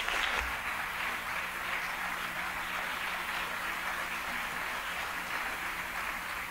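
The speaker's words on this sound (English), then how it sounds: "Please help me welcome, with the Big Music Therapy Association round of applause, our esteemed speaker, Dr. Aniruddh Patel." An audience applauds steadily, a dense wash of clapping holding at an even level throughout without pause.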